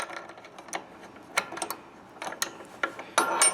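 Speed wrench spinning down a ball stud nut during an Equalizer hitch install: quick, irregular bursts of metallic ratcheting and clicking, close and crisp against a quiet background.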